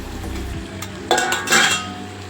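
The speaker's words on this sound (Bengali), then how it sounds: "আলুগুলো দিয়ে ভালো করে মশলার সাথে কষাতে থাকবো।" A spoon stirring fried potatoes into masala in a pan, with a few sharp scraping clinks against the metal over a low sizzle, close and fairly loud.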